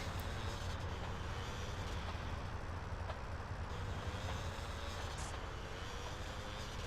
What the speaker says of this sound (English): Was that another train? Apparently that was.